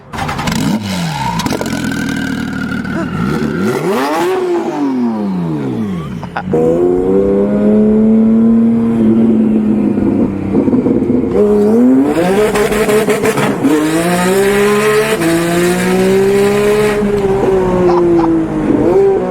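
A twin-turbo Porsche GT3 engine catches and settles into a loud, close idle, then revs repeatedly with rising and falling sweeps and a rasping, high-pitched howl.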